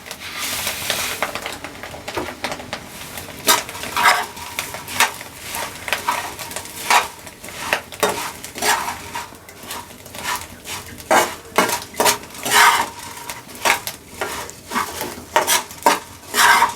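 Puffed rice being stirred into a fried egg mixture in a pan: irregular scraping and clattering of a utensil against metal, with light sizzling underneath, loud and close.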